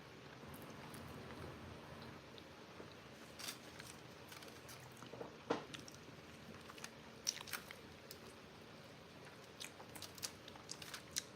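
Someone bites and chews a taco close to the microphone, giving quiet, irregular crunching and chewing sounds over a faint background hiss.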